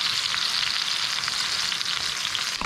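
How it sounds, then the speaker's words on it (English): A tomahawk ribeye steak sears in a hot pan, giving a steady, loud, continuous sizzle and crackle that holds evenly throughout, with no voices. "you're going to sear it until golden brown, press it down hard for maybe a minute or two on each side"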